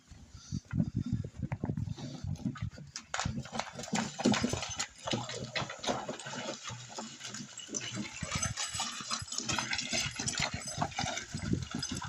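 A calm mare walks slowly at an unhurried, foot-after-foot pace, hauling a load in a drag trial, her hooves clip-clopping in a steady rhythm close by, mixed with rustling and scraping from the surroundings.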